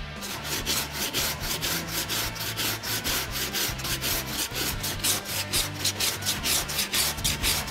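Steady back-and-forth rasping of 40-grit sandpaper on a long board file working hardened body filler, rhythmic strokes repeating evenly and close with no talking.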